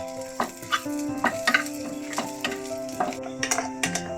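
A blended ground paste, thankuni leaf paste for a village-style bhorta, added to a pan of lightly fried onion and dried chili, sizzling softly while being stirred, with repeated scraping clicks of the spoon in a quiet kitchen.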